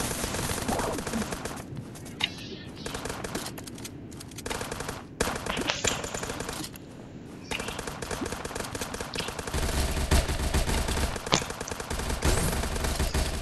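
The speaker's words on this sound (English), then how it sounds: "Got him with the pistols." Pistol shots in a video game, heard as a loud, busy run of sharp, rapid shots layered over constant game noise, with some short gaps and a heavier stretch near the end.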